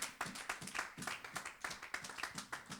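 A church congregation claps in rhythm to acclaim God, a steady, fairly quiet beat of hand claps at a brisk tempo.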